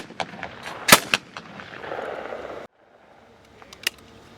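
A shotgun fired at a clay target outdoors, a sharp loud blast followed by a second quick report and echoing decay, then quiet with a fainter distant shot later.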